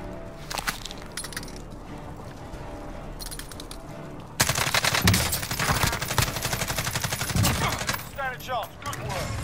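Video game gunfire in rapid bursts, crackling automatic shots that grow louder and denser partway through, with a player's voice talking in between.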